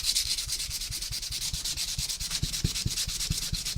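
Sandpaper rubs back and forth over a painted craft project in quick, even strokes, a close and steady scratchy rasp with no talking.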